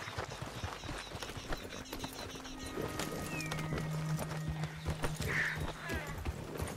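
Horses gallop in Red Dead Redemption 2 with steady, fast clip-clop hoofbeats close by, a neigh rising partway through, over a faint outdoor game ambience.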